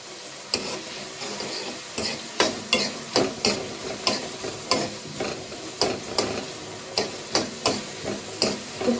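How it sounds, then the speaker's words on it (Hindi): Chopped capsicum frying in a pan, stirred with a spatula that strikes the pan in regular, sharp scrapes and taps over a steady sizzle, close and without talking. "शिमला मिर्च को करती हूँ फ्राई।"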